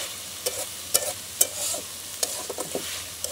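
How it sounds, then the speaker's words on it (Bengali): Green peas fry in a pan with a steady sizzle, punctuated by sharp scraping knocks of a spatula stirring them, close and clear. "আমার মটরশুঁটি ভাজিটা কিন্তু প্রায় হয়ে এসছে"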